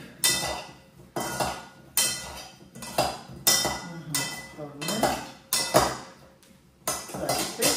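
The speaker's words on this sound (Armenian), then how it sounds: "Հիմա ես միացա խառնեմ" A utensil stirs food in a bowl with an olive oil dressing, making regular scraping and clinking strokes about every half second to a second, close and fairly loud, with no talking.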